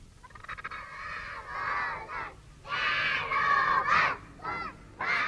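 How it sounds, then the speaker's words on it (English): A whole class of children calling out together in a Kiarostami film, several bursts of shouted voices in chorus, rising and falling, somewhat distant and slightly muffled. "Until almost an entire class calls out to him and a hint of their chorus finally reaches the old"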